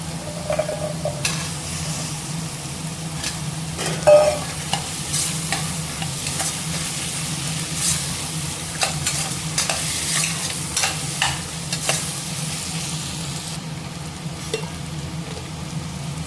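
Soaked rajma beans sizzle in a pan while being stirred for a rajma biryani, a constant hissing fry with frequent scraping and clinking strokes of the spoon, close and continuous with no talking.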